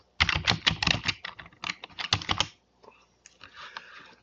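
Quick, close keystrokes rattle on a computer keyboard as a Linux command is typed in Ubuntu, a dense burst of clicks followed by a short pause and a few lighter taps.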